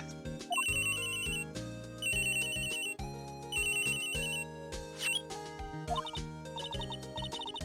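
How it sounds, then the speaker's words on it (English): A phone ringtone plays in the Phoenix Wright: Ace Attorney Trilogy video game, bright repeated electronic rings in bursts over a busy musical backing with no speech. "when a phone rings, you cannot skip it"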